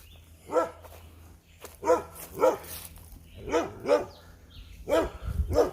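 A dog, likely a bulldog, barking in a series of about seven sharp, fairly close barks spaced roughly half a second to a second apart, over a low steady hum.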